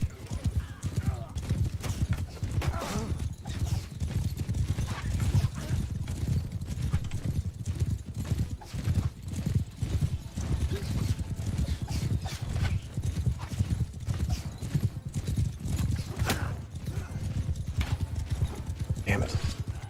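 Horse hooves gallop in Mount & Blade II: Bannerlord, a rapid rolling clip-clop with occasional neighs and battle noise, steady throughout while someone talks excitedly over it.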